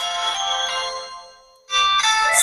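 A Bontel C4 four-SIM button phone plays its startup tone when switched on. A bright, loud electronic melody sounds, dips to near silence, then swells again.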